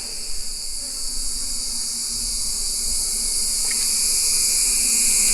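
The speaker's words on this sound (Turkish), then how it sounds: "Benim açtığım yerden bal yiyorlar." Honeybees swarm over an opened hive to feed on exposed honeycomb, a dense, steady high buzzing that grows slightly louder toward the end, heard close with no speech.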